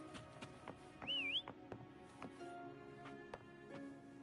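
A short melodic whistle in the Wuthering Waves video game, a single wavering rising-and-falling tone lasting under half a second amid soft tapping footsteps and ambient game sounds.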